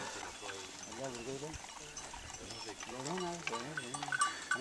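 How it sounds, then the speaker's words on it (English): Goats bleat repeatedly near a water hole trough in Africa, their wavering calls overlapping at close range while a person talks over them. "He was just giving water to all these goats."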